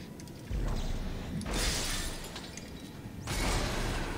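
Glass window shattering in Dead Space 2, two loud crashing bursts of breaking glass with bright spraying shards, separated by a brief lull over low hum.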